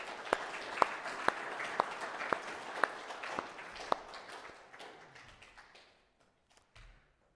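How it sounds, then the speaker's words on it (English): A congregation applauding during a Sunday church service: a short round of sharp, evenly spaced claps that quickly thins and fades out to near silence. "it's fitting for a round of applause and thanks for them"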